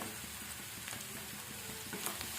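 Salted vegetables, including carrot, fry in a pan for a vegetable pancake, making a quiet, even sizzle with faint crackling that persists unchanged for the whole moment, with no one speaking.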